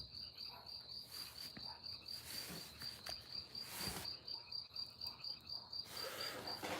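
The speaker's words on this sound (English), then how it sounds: "I like the spring peepers." Spring peeper frogs call outdoors, a steady high chorus of shrill peeps at moderate distance with faint insect-like trilling and no talking.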